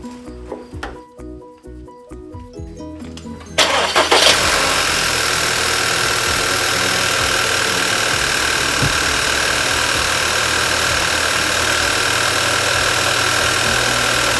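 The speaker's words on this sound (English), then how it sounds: "Well, it's idling okay, so not sure what the driver is complaining about." A car engine idles steadily and loudly with an even, rumbling rhythm, preceded by a few seconds of clicks and mechanical clatter before it settles.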